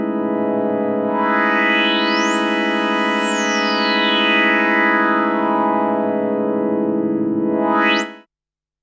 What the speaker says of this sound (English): So if we go over to the classic filter, for example, and I just put some resonance on